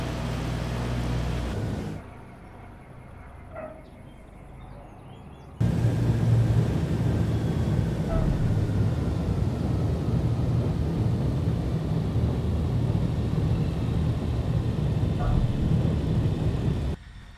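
A Douglas DC-3 Dakota propeller plane in a flight simulator makes a steady, loud engine roar and rumble. A brief louder burst opens it, a quieter stretch follows, then a sustained heavy drone holds until it cuts off near the end.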